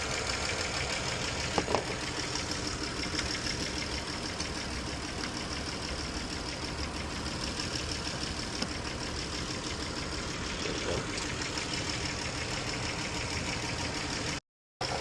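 A 2012 Chrysler 200 with the 3.6L VVT engine idles close by in a steady, even drone with a faint rhythmic knock, cutting out briefly just before the end.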